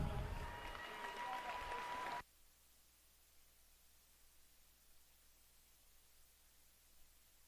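Crowd applause at a USA BMX national race for a rider who has gone down, a brief burst of clapping and noise lasting about two seconds before it cuts abruptly to near silence.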